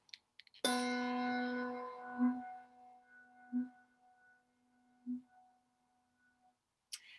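Bass handbells rung with the echo technique: one deep bell strike rings out with a long sustained hum, re-struck by soft pulses about every second and a half that swell the low tone, with a brief light tap near the end.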